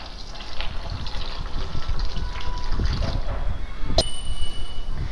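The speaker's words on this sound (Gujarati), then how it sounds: "ત્યાર પછી વડી ડૂબે એટલું પાણી એડ કરીશું આપણે." Water gushes steadily into a bowl of dry soya chunks, a continuous close pouring splash with a brief light ding near the end.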